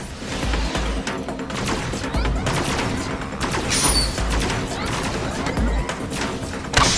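Dense rapid gunfire from a space-laser weapon battle in the video game Agents of Mayhem, loud sustained bursts with crashing impacts and deep thumps running the whole time, a voice briefly audible underneath.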